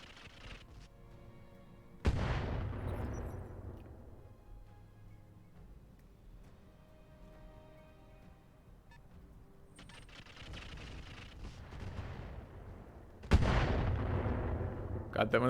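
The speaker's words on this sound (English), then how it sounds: "when the last rocket hits for a super loud noise" Rockets striking in the Battletech Roguetech mod, heard as two loud booming impacts about eleven seconds apart, each decaying into a long rumbling tail, with quieter crackling between them.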